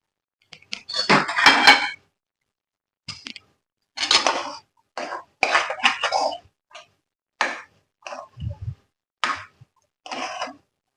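A spoon stirs a masala mixture in a metal pan on a gas stove for a vegetable frankie filling, giving irregular bursts of scraping and clinking separated by short quiet gaps, close and fairly loud, without talk.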